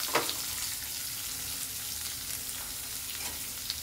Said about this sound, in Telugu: సన్నగా కట్ చేసుకున్న ఉల్లిపాయ ఒకటి, ఇది మెత్తబడేదాకా వేయించుకుందాము.